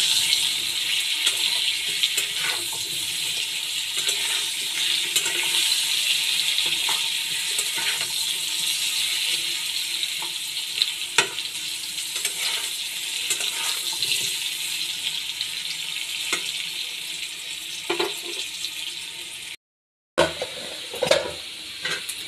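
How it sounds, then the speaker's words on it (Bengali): Potato and papaya frying with turmeric in a pan, giving a steady, hissing sizzle with occasional stirring clicks and a brief break near the end. "হলুদ দিয়ে একটু ভালো করে ওকে ভেজে নেব,"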